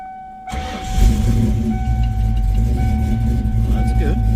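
A 1995 Mustang Cobra that has sat unused for a while cranks and fires at about half a second, then settles into a loud, steady, slightly uneven idle close by, with voices talking over it.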